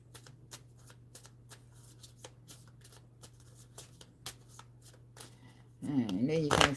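Tarot cards are shuffled by hand in a run of crisp, irregular riffling flicks against a low steady hum, with a voice speaking loudly over the last second.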